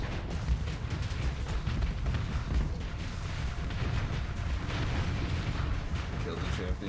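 Automatic weapon fire in the game Fit To Fight, a dense continuous barrage of rapid gunshots and bursts filling the whole stretch, with a voice talking over it.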